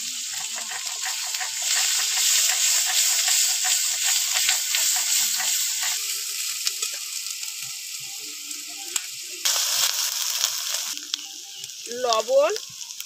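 Bay leaf, cumin seeds, onion paste, garlic paste and slit green chillies hitting hot oil for a pomfret curry: a loud, close sizzle that softens over time, followed by a few light clinks near the end.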